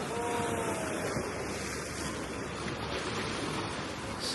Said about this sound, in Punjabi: ਬੜਾ ਸ਼ੋਰ ਆ ਵੀ ਸਮੁੰਦਰ ਦਾ ਸ਼ਾਮ ਨੂੰ ਜ਼ਿਆਦਾ ਕਹਿੰਦੇ ਹੋ ਜਾਂਦਾ ਸ਼ੋਰ ਇਹਦਾ